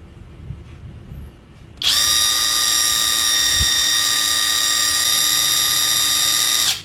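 Up close, a Modern M65 impact wrench revs at full speed, a loud steady high-pitched whine that starts abruptly and holds for about five seconds before cutting off.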